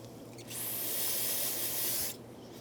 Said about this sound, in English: I'm just going to take some parts cleaner, brake clean, and I'm going to take that packaging surface oil right off it